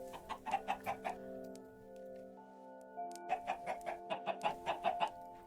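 Chickens cluck in Minecraft, two quick bursts of rhythmic clucks separated by a short pause, heard alone over a faint background tone.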